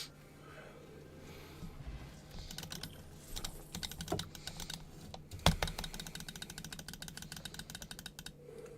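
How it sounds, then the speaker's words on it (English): Steady rapid keyboard typing and mouse clicking during a card game session, close and continuous, with denser bursts of keystrokes in the second half and no talk. "Also, you're going to hear me clicking like it's League because I just kind of do that passively."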